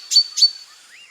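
A cartoon voice imitates a bulbul bird call with two sharp, bright chirps in quick succession, followed by a faint rising whistle, clear and close with no talking.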